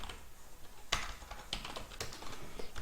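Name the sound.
typing code on a computer keyboard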